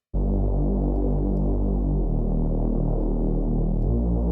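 Synthesized reese bass, a loud sustained low droning tone with a slow throbbing, phasing movement that shifts pitch twice, starting abruptly after a brief silence and playing alone without voices.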